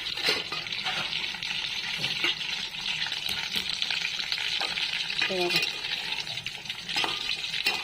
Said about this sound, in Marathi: थोडंसं पाणी टाकायचं आपल्याला आता फिरवून घेऊ